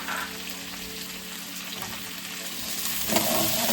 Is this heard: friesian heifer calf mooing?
no